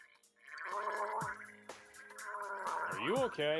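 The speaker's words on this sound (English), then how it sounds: "Yeah, that was a burp." A strange, gurgling burp from a man recording a casual gaming podcast, drawn out and warbling with wavering pitch, close and fairly loud, with another voice speaking briefly around it.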